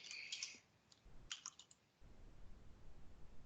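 Quick bursts of computer keyboard typing while entering a query into a search field in Qlik software, with short clustered clicks, a pause, then a faint low hum.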